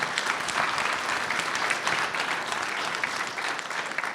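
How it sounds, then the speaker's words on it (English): Audience applause for a social influencer content creation panel, a dense, steady clapping from a full room lasting the whole stretch without pause. "I'd like a little applause for my panel"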